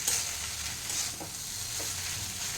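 Okra (vendi) frying in a pan is stirred, a close soft sizzle with gentle scraping strokes running through the short stretch and no voices.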